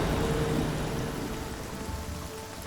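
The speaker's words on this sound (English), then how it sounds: "We got toxic rain for the next 16 hours." Toxic rain falls in the Surviving Mars video game: a steady, dense hiss of rainfall that stays close and fairly loud, with a low rumble underneath and no voices.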